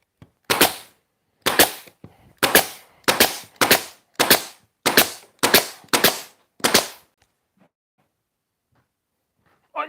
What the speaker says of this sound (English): I love nail guns.